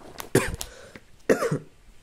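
Two close coughs, each a short rough burst, separated by about a second of quiet.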